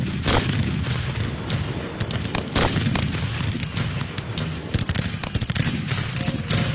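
Artillery shells and rockets pound Fort McHenry in a dense, continuous barrage, with loud booms and sharp blasts overlapping one another and no talk.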